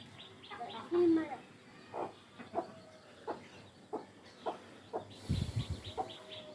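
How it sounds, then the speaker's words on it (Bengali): Free-range chickens and chicks clucking in an open yard, short scattered clucks and calls at moderate distance, mixed with people talking nearby. "এই যে আরেকটা মুরগি আসতেছে,"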